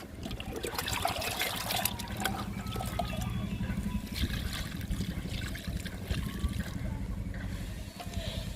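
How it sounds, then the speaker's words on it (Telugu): Liquid plant fertilizer trickles and splashes onto a potted plant in a continuous, fairly quiet pour lasting several seconds, with faint background noise. "ఈ మొక్కకు కూడా ఇస్తున్నాను లిక్విడ్."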